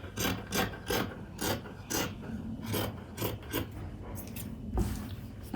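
Scissors snip through chiffon fabric to cut out pocket pieces, a series of close, crisp cutting strokes in uneven rhythm with soft rustling between them.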